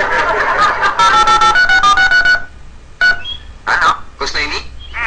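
Telephone keypad tones dialed in a short burst of stacked beeps, then a few more scattered tones mixed with people talking nearby.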